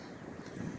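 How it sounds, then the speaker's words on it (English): A soft, low wind blows in 15 to 18 mph gusts past a small 800 watt wind turbine, heard as a faint continuous rumble for under a second with no voices. "we're getting small little gusts here, 15, 18 mile an hour gusts"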